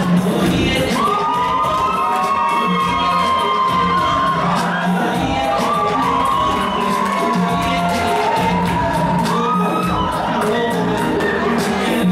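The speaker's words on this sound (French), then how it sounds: "On applaudit pour la candidate." A crowd at the 2013 Miss Africa Switzerland pageant cheers for the contestant representing Cameroon: loud, sustained whoops and shouting that fill the room without a break.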